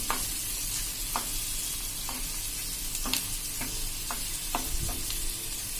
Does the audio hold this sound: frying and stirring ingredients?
yes